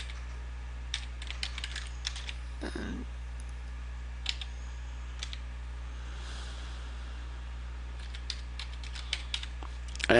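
Small, quiet key clicks come from someone typing an email address on a BlackBerry keyboard, irregular bursts of taps over a steady low hum.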